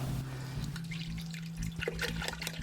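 Water trickles and splashes into a pot of fresh crisp greens being prepared for natural dyeing, close and fairly quiet over a low steady hum, with small uneven drips and pours.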